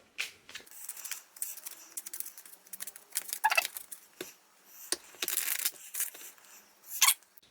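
A deck of playing cards with a Joker slid into the middle gets shuffled by hand, giving quick bursts of crisp riffling and snapping clicks broken by short pauses, close and fairly quiet.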